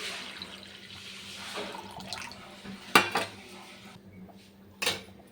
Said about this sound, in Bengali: এই দেখো কড়াইটা বসিয়ে দিয়েছি, জল দিয়ে দিলাম।